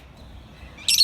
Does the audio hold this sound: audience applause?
no